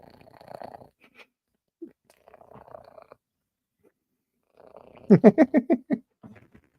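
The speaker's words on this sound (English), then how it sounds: "can you hear her purr?" Soft, scattered rustling gives way to a cat's close, rhythmic purr, a string of about six low rumbling pulses near the microphone.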